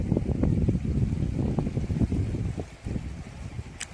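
Gusty breeze with rushing flowing water at Avalanche, a mountain village in Tamil Nadu under gathering rain clouds, a steady broadband wash with soft irregular bursts, no talk.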